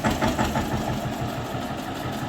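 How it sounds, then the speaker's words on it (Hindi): A single-cylinder tractor engine chugs steadily as it approaches, a loud, close, rhythmic knocking thump with no voices over it. "तो यहाँ पे आ रहा है अपना सिंगल सिलेंडर।"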